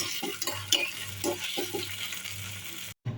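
Chopped tomato and green chili pieces being stirred and mixed in a hot pan for peanut chutney, with soft repeated scraping strokes over a faint sizzle, ending in a brief cutoff.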